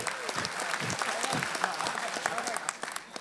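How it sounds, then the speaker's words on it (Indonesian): A studio audience at an Indonesian stand-up comedy show applauds steadily, a dense wash of many hands clapping at even loudness throughout, with light crowd noise mixed in. "Boleh tepuk tangan buat saya sekarang ya"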